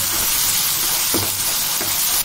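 Green chillies and curry leaves sizzle in hot tempering oil for a rice dish, a steady loud frying hiss with a couple of brief bursts of crackle and a sharper flare near the end, no voices.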